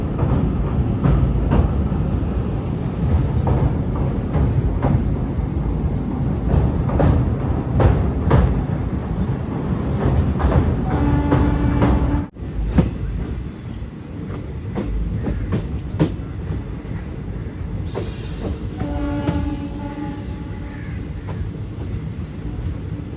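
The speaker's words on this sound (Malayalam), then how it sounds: "പാലക്കാട് നിന്നും 400 കിലോമീറ്റർ യാത്രയിൽ ട്രെയിൻ ഇതാ രാമേശ്വരത്തേക്ക് എത്തുകയാണ്." Amritha Express running toward Rameswaram island, its steady clickety-clack of wheels on rail joints loud and continuous, with a brief break midway before the rolling rhythm resumes.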